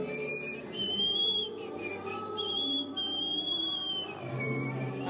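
A person whistles a wavering, tuneless birdlike melody in several short rising and falling phrases, close and fairly clear, imitating a bird's song.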